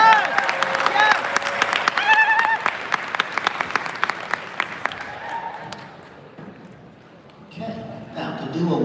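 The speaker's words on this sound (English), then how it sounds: "So let's give a round of applause for them." Loud applause from a crowd at a graduation celebration, honouring a processional of drummers and dancers, steady clapping that fades toward the end before a voice and renewed noise come in.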